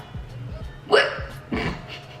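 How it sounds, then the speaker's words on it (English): A person hiccups in a home kitchen, two sharp, loud, close hiccups a moment apart against a faint low background hum. "I had to hiccup there so bad"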